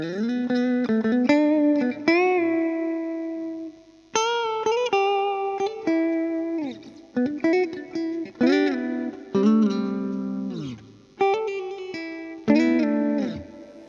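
An electric guitar in the middle pickup position, a Harley Benton CST 24, plays expressive bluesy phrases with a bright, slightly hollow tone, bends and slides, clean and up close, with short gaps between runs.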